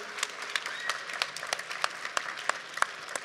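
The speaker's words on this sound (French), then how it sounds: "On peut les applaudir." An audience applauds at a startup competition final, dense scattered clapping with sharp individual claps standing out, steady and moderately close throughout.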